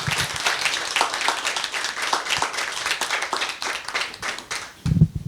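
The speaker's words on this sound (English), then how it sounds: "Please join me in giving them a warm round of applause." Audience applause at a literary event in Paris, steady warm clapping from a seated crowd, fairly close and continuous, with a brief thump near the end.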